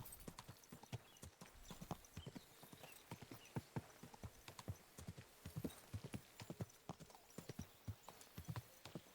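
A horse's hooves clip-clop at a steady walking rhythm on hard ground in the medieval video game Kingdom Come: Deliverance 2, each strike crisp and fairly close, continuing throughout with faint ambient noise.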